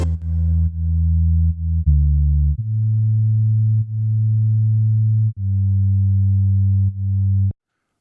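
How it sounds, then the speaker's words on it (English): Bass line in a music production, ducked by a sidechain kick trigger, giving loud, sustained low tones that swell and dip in a regular rhythmic pumping with sharp breaks between notes. "that pumping sound you heard was the sidechain kick trigger"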